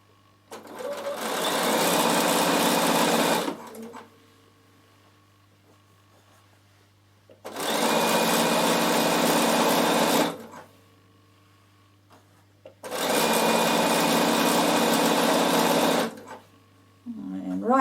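A sewing machine stitches a narrow seam on a small fabric pouch in three long runs of steady whirring, each a few seconds, with quiet pauses and a low hum between them.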